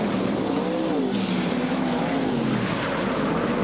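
Sprint cars racing on a dirt track, engines roaring at a distance with rising and falling pitch as they circle, a loud continuous wash of noise without clear talk.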